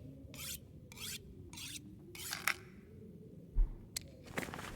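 Rhythmic rasping strokes of a whetstone sharpening and repairing a tool in the survival video game The Long Dark, four even scrapes followed by a few clicks and a soft thud.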